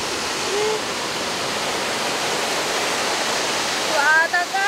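Water roars steadily down at a dam, a dense continuous rushing wash that stays loud throughout, with brief faint voice-like tones near the end.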